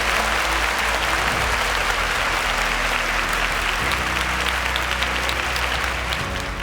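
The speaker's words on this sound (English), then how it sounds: "Can we give him a round of applause?" An audience at a televised quiz competition bursts into sustained applause, dense clapping holding steady for several seconds with a faint crowd murmur beneath.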